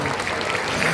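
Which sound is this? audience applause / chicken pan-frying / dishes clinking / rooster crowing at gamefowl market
audience applause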